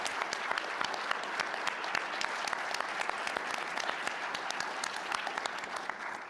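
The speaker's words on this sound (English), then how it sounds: "let's give them a round of applause for creating this program." Audience members at an annual meeting applaud the founders of a program with steady, moderately distant clapping from many hands, a sustained even patter with individual claps popping out now and then.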